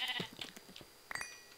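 A Minecraft sheep gives a short harmonic bleat at the start, followed by scattered soft game taps and clicks and a second faint bleat near the end, close and clear with no talk.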